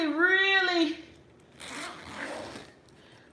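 A zipper being pulled along the front pocket of a bag makes a short rasping run of about a second, close up. It comes right after a burst of speech.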